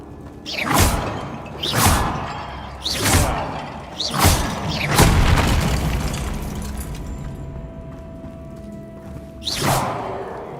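Repeated Bombarda spell blasts in the Hogwarts Legacy video game, five heavy booming explosions in quick succession with crumbling debris and rumble trailing off, then one more blast near the end.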